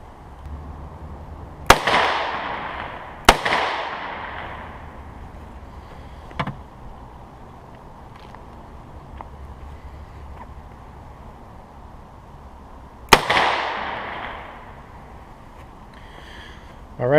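A .327 Federal Magnum revolver firing 85 grain rounds into a meat target outdoors: three loud sharp gunshots with ringing decays at uneven intervals, plus a few fainter distant pops between them.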